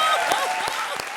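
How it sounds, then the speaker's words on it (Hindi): Loud audience applause on a comedy show set, a thick wash of clapping from a crowd with a few sharper claps standing out. "जोरदार तालियां बजाओ।"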